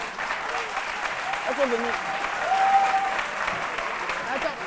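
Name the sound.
audience applauding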